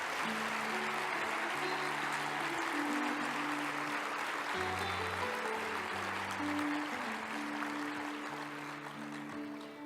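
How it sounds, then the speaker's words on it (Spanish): Audience at an awards ceremony applauding a finalist, a steady wash of clapping lasting about ten seconds over a music track with a sustained melody, easing slightly toward the end. "ese aplauso fantástico para nuestra primera finalista"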